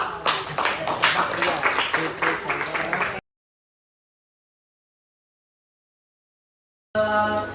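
Pupils in an Islamic religious education classroom clap in a rapid, fairly rhythmic patter for about three seconds with voices mixed in, followed by abrupt silence and a brief return of sound.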